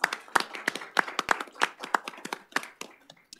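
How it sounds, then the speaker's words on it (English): Applause at a city work session meeting: a short round of clapping from a modest group, with sharp irregular hand claps close by that thin out and fade near the end. "Let's give a round of applause."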